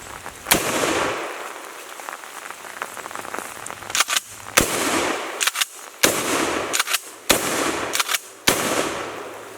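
Shotgun shots fired outdoors in the rain, a series of loud, sharp blasts spaced a second or two apart, each with a short ringing tail, over a steady wash of rain noise.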